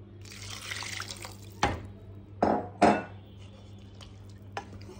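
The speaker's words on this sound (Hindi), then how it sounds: "अब इसमें अपने ग्रेवी के अकॉर्डिंग इसमें हम वाटर ऐड करें" Water is added to a pot of black chickpea curry in a home kitchen, with a few short splashes and pours plus light clinks of utensils over a faint background hum, without speech.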